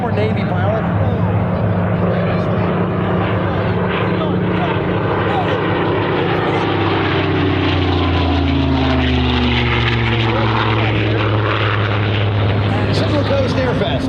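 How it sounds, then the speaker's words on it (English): A restored Fairey Firefly AS.6 propeller aircraft runs its engine at a Central Coast airshow, giving a loud, steady, close drone with slowly shifting pitch throughout. "Captain Eddie at the controls of the Firefly, former Navy pilot"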